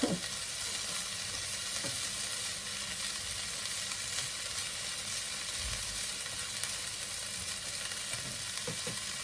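Food frying in a pan for ginisang monggo, a steady close crackling sizzle with occasional stirring clicks, no talk.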